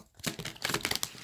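A deck of cards is shuffled quietly at close range, giving a quick, crisp rippling flutter of overlapping card snaps lasting about a second.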